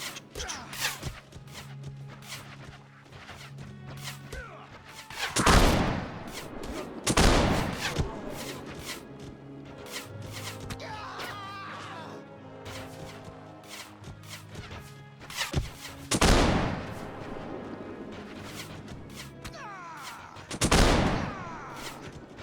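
Gunfire during a castle siege in the Warsword mod of a medieval battle game, with scattered sharp shots, several louder cracking volleys and crashes spread across a busy battle backdrop.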